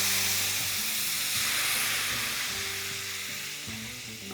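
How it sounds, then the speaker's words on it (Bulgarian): Pork neck chops' pan being deglazed after frying, giving a steady close sizzle and hiss of steam that slowly fades, with no talking. "сега деглазирам тигана"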